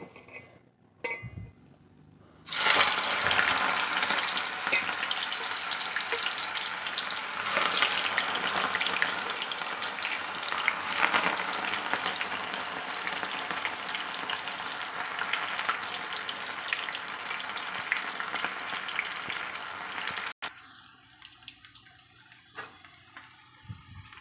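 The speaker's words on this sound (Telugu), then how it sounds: "ఆయిల్ అయితే వేడైంది. మనం ఇది ఫ్రై చేసుకుందాం." Cauliflower snack pieces deep frying in hot oil give a loud, steady crackling sizzle that starts abruptly after a quiet moment, runs unbroken for about eighteen seconds, then drops away to faint bubbling.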